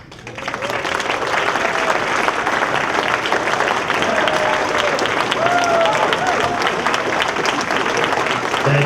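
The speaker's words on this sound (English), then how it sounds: "I would like to get everyone up and give them a round of applause." Wedding reception guests break into applause that swells quickly and holds as a dense, loud roar of clapping, with scattered voices in the crowd.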